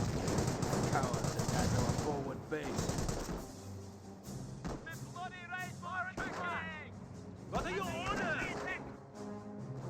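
Small arms fire in Company of Heroes aimed at a mortar half-track, rapid gun bursts rattling through the first few seconds, then quieter game sounds with high whistling tones beneath a talking voice.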